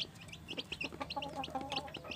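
A young rooster of a Jeki Jeger chicken line clucks and crows in short repeated bursts, close by, with a steady low background hum and no talk.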